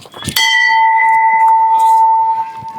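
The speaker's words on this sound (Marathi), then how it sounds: "जरा घंटा हळूच वाजव की" A temple bell is struck once, loud and close, ringing out with a long sustained tone that slowly fades.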